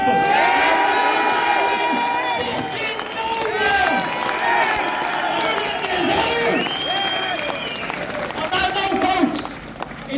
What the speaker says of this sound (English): Great to see a massive crowd of people here today, coming out in their thousands.